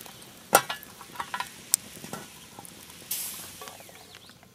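Campfire coffee heating over a bed of coals, giving faint crackles and scattered pops and ticks with a brief hiss, quiet and close, with no talking.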